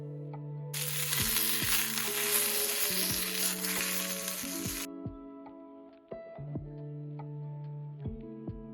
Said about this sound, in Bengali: তাই একটু চিকেনও আমি ভেজে নেব তার সাথে সাথে বেগুনটাকেও হালকা কোটিং করে ভেজে নেবো